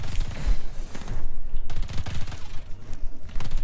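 Rapid gunfire erupts in the co-op shooter Earthfall, with dense automatic bursts broken by a brief pause, loud and close with no speech over it.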